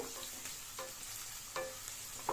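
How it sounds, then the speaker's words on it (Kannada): Sliced onions fry in hot oil for an egg curry gravy masala, a steady close sizzle broken by several sharp scrapes and clacks of a stirring spoon, with no voices. "ಎಗ್ ಕರಿಗೆ ಈರುಳ್ಳಿ ಸಾಫ್ಟ್ ಆಗೋವರೆಗೂ ಚೆನ್ನಾಗಿ ಫ್ರೈ ಮಾಡ್ಕೊಳ್ಳಿ"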